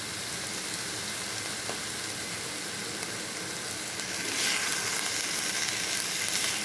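Bitter gourd fries in a pan with a steady, even sizzle that grows a little louder toward the end, and a stirring scrape is faintly audible beneath it.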